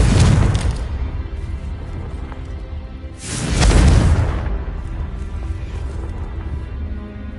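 Two heavy booming blasts from the Confringo spell in Hogwarts Legacy, each a loud rumbling burst with a whooshing tail, about three seconds apart, over continuous game noise.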